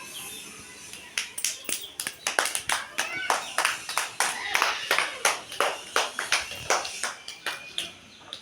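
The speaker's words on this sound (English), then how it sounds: "Clap" Rhythmic hand clapping by a group in a classroom, sharp claps in a steady pattern of bursts, loud and close, repeated across the whole stretch with no talking.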